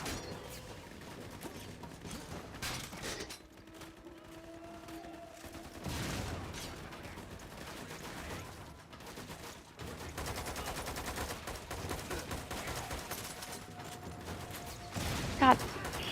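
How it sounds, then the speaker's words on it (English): Minigun fire in the video game Lost Planet 2, bursts of rapid gunfire with mechanical whirring layered through a busy game soundtrack, fairly quiet in the mix and continuing across the stretch with a louder spike near the end. "Yeah, I picked up a little minigun."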